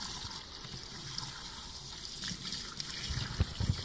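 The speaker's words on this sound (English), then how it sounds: "We're just using this IBC container, taking some water out and filling it up off-grid style." Water poured off-grid from an IBC container into a washing machine, a continuous gushing, trickling flow at moderate level with a few louder splashes near the end, no talk.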